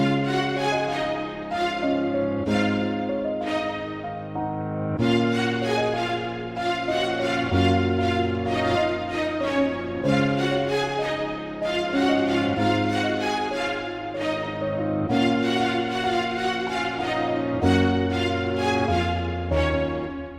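A looping reggaeton beat with plucked synth chords and processing effects repeats in a steady rhythm, with no voices.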